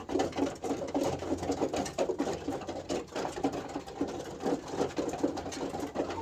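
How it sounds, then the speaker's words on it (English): Contented chickens clucking softly in a coop, a steady low murmuring chatter of several hens with overlapping coos, continuous and fairly quiet throughout. "That is the sound of happy chickens."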